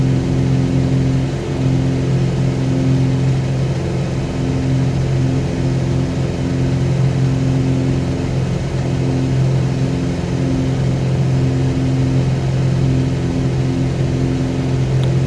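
Cessna 182 piston engine in Microsoft Flight Simulator 2020, throttled back to a steady, loud droning hum with a constant low buzz that holds evenly throughout, with no talking.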